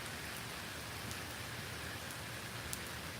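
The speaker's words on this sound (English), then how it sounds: "Rainy day today, friends." Steady rain falls outside, a dense, even hiss of drops with faint occasional splashes, continuous and moderately quiet with no talking.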